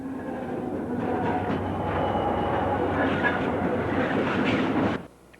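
A train rolls steadily past close by, a dense rumbling roar with wheel clatter holding for about five seconds before cutting off abruptly.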